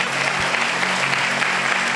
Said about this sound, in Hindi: जोरदार ताली बजाना